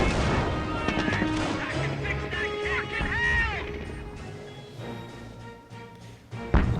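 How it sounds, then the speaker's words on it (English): Artillery shells burst in a barrage during a Company of Heroes Mobile battle, with repeated booming explosions and crashes layered over continuous dense game noise. "And here's the artillery barrage"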